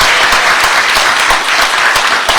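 An audience at a speech on Virginia education policy breaks into sustained applause, dense and loud, with the individual claps blurring into a continuous patter that lasts the whole stretch.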